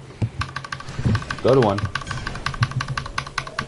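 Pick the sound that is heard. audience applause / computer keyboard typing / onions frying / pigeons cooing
computer keyboard typing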